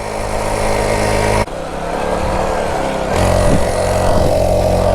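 A motorcycle revived after sitting for seven years, running on super skinny tires, revs hard at full throttle: a steady engine drone breaks abruptly, then climbs back into a louder, rising pull, close up with no talk.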